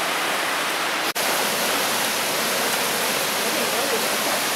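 Peguche Falls in Ecuador roars as a steady, broadband rush of falling water, close and loud, continuous throughout with one brief dropout near the start.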